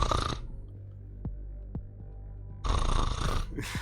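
A person mimics snoring with a vocal snort or gurgle at the start, then two brief sharp clicks over a low steady hum, and a louder second snore-like burst near the end.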